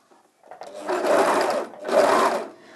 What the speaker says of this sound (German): Und dann nähe ich erstmal so weit, dass die Nähmaschine meinen Stoff erfasst hat.